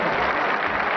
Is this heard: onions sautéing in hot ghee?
no